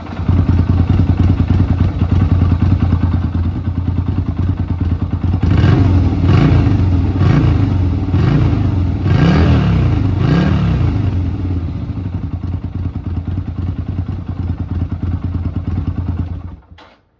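A Yamaha Virago 250 motorcycle engine idles loudly and close through its exhaust during a restoration, with a steady pulsing rumble. Several quick revs rise and fall in the middle, then it settles back to idle and cuts off abruptly at the end.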